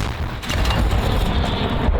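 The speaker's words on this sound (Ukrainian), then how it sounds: "Постріл!" A single heavy artillery shot fired by Ukrainian artillery crews, a deep booming blast that rumbles low and rolls off over about two seconds.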